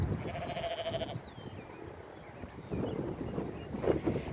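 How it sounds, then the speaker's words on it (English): A ewe with twin lambs, one white and one black, bleats from nearby in a lambing setting, a short call standing out over low wind and rustling, with a faint second bleat near the end. "the ewe on the edge of the screen is interesting because she has a white baby and a black baby"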